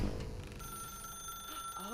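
In the video game The Stanley Parable, a telephone rings as a faint, steady electronic trill, with faint background voice and noise.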